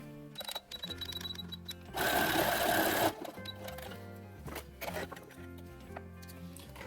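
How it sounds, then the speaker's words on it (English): A sewing machine runs a standard zigzag stitch attaching Velcro to a Star Wars jumpsuit, rhythmic mechanical whirring in bursts with a louder, dense stretch in the middle and short pauses between runs. "we zigzag the Velcro on with just a standard zigzag stitch"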